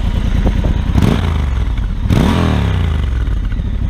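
A Triumph Scrambler XE motorcycle engine running loud and close, with two sharp revs rising and falling over a steady rumbling idle.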